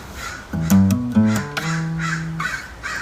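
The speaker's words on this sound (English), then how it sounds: "Got lots of crows around here. making a lot of noise." Crows caw loudly nearby, a quick run of harsh calls followed by a longer drawn-out caw, then quieter calls farther away.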